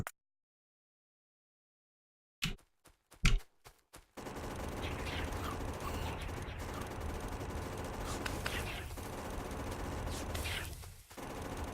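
Gun turrets firing in Factorio, a few sharp isolated shots after silence that give way to sustained rapid automatic fire at steady volume.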